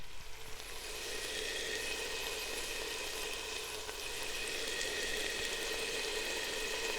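Bacon sizzles and crackles steadily in a pot while cooking chicken katsu curry, a close, continuous bright frying hiss with no talking.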